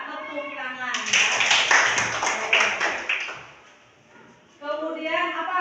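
Children in an elementary school classroom applaud a classmate's answer, a short burst of scattered close clapping that rises between stretches of a teacher talking and then fades out.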